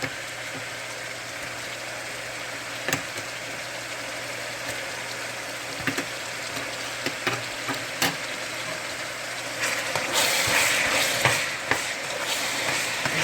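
Lily butter, a Haitian butter, sizzles in a pot of oil with other ingredients for Haitian rice and beans, a steady close hiss with occasional stirring clinks and a louder burst of sputtering near the end.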